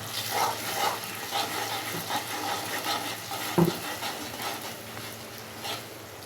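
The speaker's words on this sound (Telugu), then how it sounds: "ఇప్పుడు ఈ దంచుకున్న ఉల్లిగడ్డల పేస్టు ఇల్లు వేసుకొని ఇట్లా కలుపుకోవాలి" Pounded onion paste for fish curry is stirred into a pot, rhythmic close scraping and soft sizzling with one sharper knock of the spoon against the pot.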